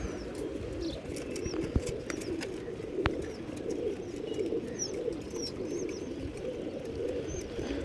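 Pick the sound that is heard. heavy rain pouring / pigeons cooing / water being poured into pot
pigeons cooing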